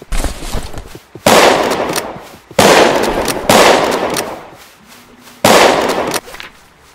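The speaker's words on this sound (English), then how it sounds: "someone's trying to shoot us" Loud bursts of gunfire in the Western video game Westbound ring out in several rapid volleys, sharp cracks repeating close by with short gaps between them.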